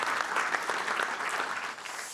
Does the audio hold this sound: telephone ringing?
no